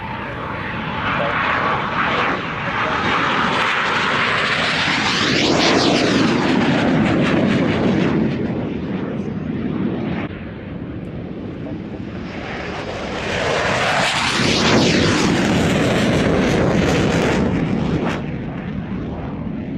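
Antonov aircraft engines running loud on the runway at the Royal International Air Tattoo air show, a continuous heavy propeller drone that swells twice as the aircraft passes near, with commentators talking over it.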